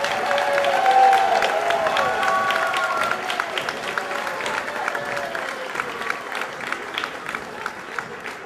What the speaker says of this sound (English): How about one more round of applause for our third grade?